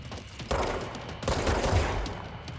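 Gunfire in the video game Control, a couple of sharp, loud shot bursts about a second apart, each trailing into a rumbling, noisy tail.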